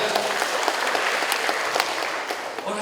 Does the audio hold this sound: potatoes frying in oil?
no